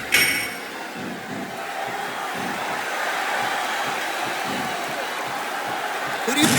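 Arena crowd noise from the wrestling video game WWE SmackDown vs Raw 2008, a loud sustained roar with rising cheers, while commentary voices talk over it.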